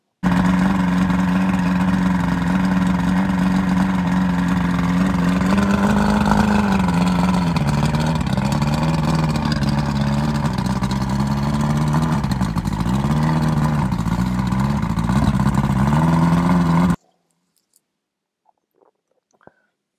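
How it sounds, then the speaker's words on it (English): Outboard engine on a 1975 Sidewinder boat running before a carburetor rebuild, a loud, continuous drone with its pitch wavering up and down unevenly for about seventeen seconds before cutting off to near silence. "here you will hear the engine running before the carburetors were rebuilt."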